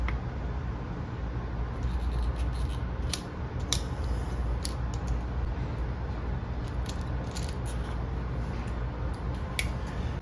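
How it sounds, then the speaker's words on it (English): Zip ties on the fuel hoses of a Mercury 60 HP four-stroke outboard engine are snipped off, giving a run of faint, sharp clicks over a steady background hum. "So we'll remove these zip ties."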